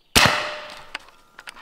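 A short air rifle fitted with a suppressor fires one sharp, loud crack that rings out briefly, followed by a few faint clicks and small mechanical knocks.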